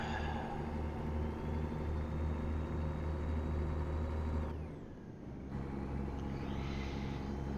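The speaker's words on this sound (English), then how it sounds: "Even this big, powerful Kenworth is struggling with this load." A Kenworth truck in American Truck Simulator strains under a heavy load, its engine droning low and steady up close, dipping briefly as if shifting gear, then resuming the same heavy hum.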